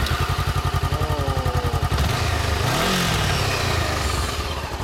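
A 2013 Honda CBR400R motorcycle with an aftermarket rear-set kit idles with a rapid, even putter, then revs up in a rising and falling roar before settling back, loud and close with no talking.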